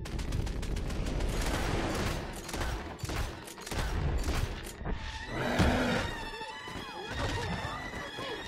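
Rapid gunfire in Red Dead Redemption 2, shots fired at a huge monster among whinnying horses and clopping hooves, dense and busy throughout, with some talk mixed in.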